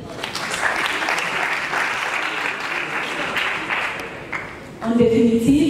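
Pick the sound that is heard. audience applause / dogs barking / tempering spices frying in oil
audience applause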